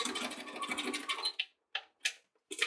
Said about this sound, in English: you're just going to stitch down the tailor chalk line.